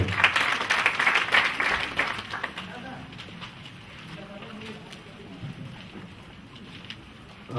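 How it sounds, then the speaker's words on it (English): Audience applause greets a speaker at a county sanitation strategy launch, brisk clapping strongest in the first two seconds, then thinning to scattered claps and a quieter room. "Ladies and gentlemen, a round of applause for Mr. Johnson Kamau."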